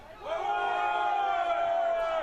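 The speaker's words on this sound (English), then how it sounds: "Crowd screaming for forward pass." A college rugby crowd at a UCLA versus University of Arizona match lets out a sustained, loud collective yell, a dense wall of voices that swells quickly and holds.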